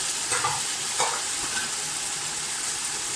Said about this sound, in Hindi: तो हम इन सारी चीज़ों को अच्छी तरह से फ्राई कर लेंगे।